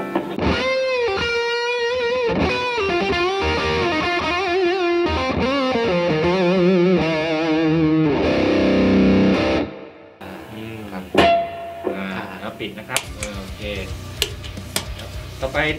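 An electric guitar plays through a Laney Ironheart IRT 60 tube amp with reverb, producing loud, distorted sustained notes and chords for about ten seconds before thinning to quieter, sparse ringing tones.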